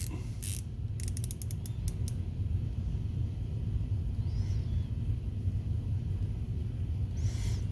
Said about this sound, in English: Rotating bezel. Oh. 2 clicks. 2 clicks per minute.